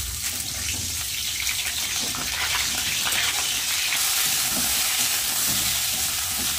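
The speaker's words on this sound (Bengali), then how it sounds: "এই তেলের মধ্যেই ফুলকপিটা ভেজে নেব" Cauliflower fries in hot oil left over from frying paneer, giving a loud, steady sizzle and crackle that holds evenly throughout, with no voices.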